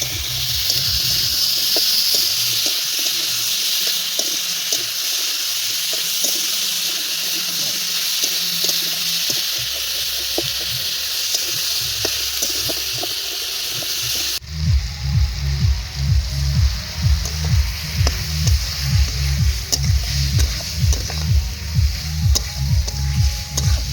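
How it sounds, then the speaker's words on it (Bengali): Tomatoes with salt and turmeric fry in a pan and are stirred, giving a steady hiss and sizzle that turns into rhythmic scraping and stirring strokes partway through. "নাড়াচাড়া করে ভেজে নিয়েছি।"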